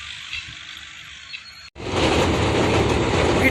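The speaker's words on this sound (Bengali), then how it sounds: "এখন ডাউন ট্রেন আছে, তো দেখাবো ডাউন ট্রেন যাওয়ার ভিউ" A down train runs on the line beneath a bridge, its steady roaring rumble and rattling wheels filling the clip loudly after a brief quieter stretch of distant noise.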